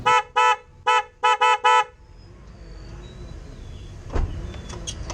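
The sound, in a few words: aftermarket car horn being tested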